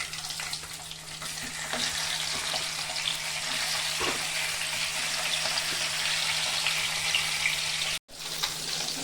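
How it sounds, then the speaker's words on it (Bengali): A fish head, a katla, frying in hot oil in a pan, giving a loud, dense, continuous sizzle that runs unbroken and close, with a brief cut near the end. "মাছের মাথাটা আমার ভাজা হয়ে গেছে"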